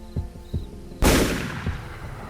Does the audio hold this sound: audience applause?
no